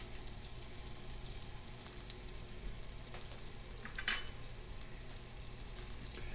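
Green and black peppercorns toasting in a pan over low to medium heat, giving a steady soft sizzle with faint crackles and one brief sharper rattle midway, heard close with no talking.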